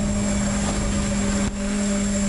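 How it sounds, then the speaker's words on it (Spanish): Enemy drones in a video game give off a constant buzzing propeller drone, steady and fairly loud with a strong tonal hum, with no talking over it. "Ah, que también tiene drones."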